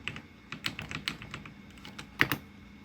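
Fingers tapping on a computer keyboard while entering a router IP address in Cisco configuration, a quick uneven run of close, crisp key clicks with a louder double tap near the end.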